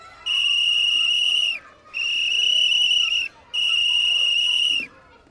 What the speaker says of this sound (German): Auch das gehört zu unserer Ausrüstung, eine Signalpfeife